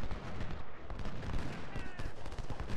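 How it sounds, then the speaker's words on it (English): Artillery fire in the Civil War strategy game Ultimate General at Gettysburg: a steady rumble of booming cannon and scattered musketry throughout, dense and continuous, with no talk. "Artillery."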